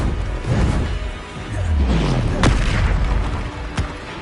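Bombarda spell blasts in Hogwarts Legacy, a deep booming explosion with a swooping low tail, followed by a sharp crack and a later smaller hit, amid busy game effects.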